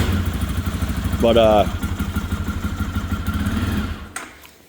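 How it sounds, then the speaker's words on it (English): A fuel-injected, dual overhead cam 250cc Chinese motorcycle engine idles steadily close by, its rapid even pulsing running for about four seconds before cutting off, while someone speaks briefly over it. "a fancy fuel injected dual overhead cam true 250 Chinese motorcycle"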